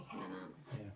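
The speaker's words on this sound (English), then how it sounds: "Sorry for the noise. The dog's woken up" A dog whimpers and growls briefly after waking, the short, low sounds mixed under a person's nearby talk.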